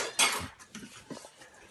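Metal spoons and dishes clatter in a kitchen sink during home dishwashing, with a sharp loud clank near the start followed by several lighter scattered clinks close by.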